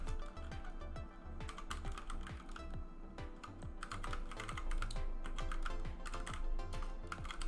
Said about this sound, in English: I was brushing my keyboard